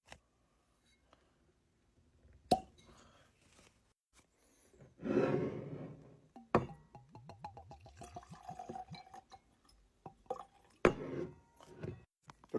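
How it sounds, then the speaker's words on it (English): A Buffalo Trace bourbon bottle uncorked with a sharp pop, followed by liquid glugging and splashing into a glass, fairly quiet and close with pauses between. "That was an outstanding cork pop."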